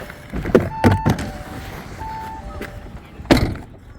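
A car's power window motor whirs briefly as the glass lowers, between a few nearby clunks and thumps, outdoors with no speech.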